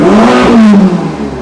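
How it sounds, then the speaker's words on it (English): Ferrari Portofino 3.9 V8 convertible engine revving up hard and loud, a rising rasping roar that peaks and then eases off within a second and a half. "I'm going to give you a little taster of what this car sounds like"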